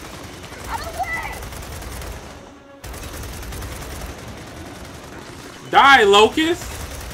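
Rapid gunfire from the video game Gears of War 4 roars in a steady, dense stream, with a brief gap in the middle. A shouted in-game voice line comes in near the end over the shooting.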